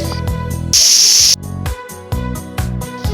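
A pressure cooker holding jackfruit and mutton lets out one short, sharp hiss of escaping steam lasting under a second, loud and close, set against rhythmic background music.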